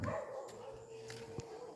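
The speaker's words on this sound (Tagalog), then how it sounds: "Diyan ang aming aso." A dog barks a few short times at a distance, faint against background noise and some indistinct voices.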